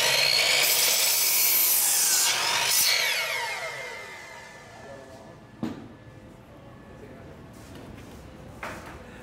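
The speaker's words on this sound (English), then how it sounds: "So he's cutting the sheetrock to fit right here." Sheetrock is cut to fit on a studio build site, with a steady rasping saw stroke loud at first, then fading, broken by a couple of sharp knocks. Voices are faintly present.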